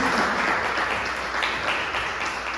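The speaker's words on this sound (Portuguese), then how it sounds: "Dê uma linda salva de palmas para Jesus." Audience applause during a Sunday church service, a dense steady wash of many hands clapping at moderate distance, holding even throughout with no voices on top.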